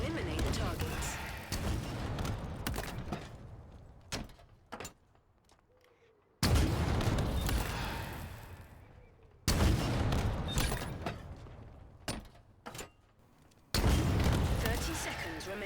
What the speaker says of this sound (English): Halo Infinite's rocket launcher sounds great, just listen to it.